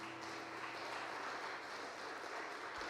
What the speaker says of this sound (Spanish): Dar un fuerte aplauso al Señor.